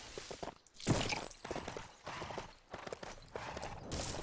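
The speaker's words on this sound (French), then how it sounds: "Moi aussi j'ai un cheval." Horse hooves clip-clop in the video game LEGO Worlds, a series of light, uneven hoof knocks at moderate volume alongside faint game noises.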